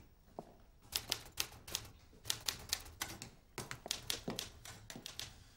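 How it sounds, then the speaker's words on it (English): One of the most expensive typewriters in the world clacks in quick bursts of sharp keystrokes, with short pauses between runs, close and fairly loud with no voices. "This racket happens to be one of the most expensive typewriters in the world."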